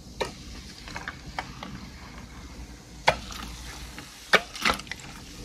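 A Coca-Cola bottle shaken by hand close up gives soft, uneven sloshing and rustling with several sharper knocks and bumps scattered through, fairly quiet overall.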